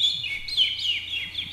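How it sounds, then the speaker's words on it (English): Bird twittering in repeated bright chirps and short rising-falling tweets, steady and fairly close, with a faint low hum underneath and no voices. "Is that a bird I hear twittering?"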